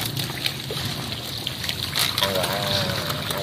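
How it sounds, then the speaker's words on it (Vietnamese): A small boat circling on a fish pond on a frog farm, with a low motor drone and water churning and splashing close by, while people talk over it. "Nhìn đang quay cái xuồng này."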